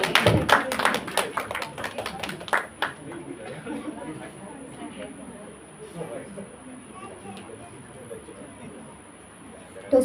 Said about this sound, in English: Give a huge round of applause to all the winners for the contest.